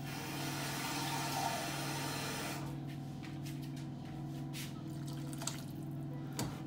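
Water poured from a container into a pot of rice during cooking, a steady splashing pour for about two and a half seconds, then faint drips and small clinks in a quiet kitchen with a low hum beneath.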